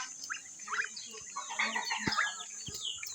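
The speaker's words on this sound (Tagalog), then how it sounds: "Ayan mga alaga niya manok." Chickens cluck and chatter in a busy flock nearby, soft overlapping calls against a faint steady hum.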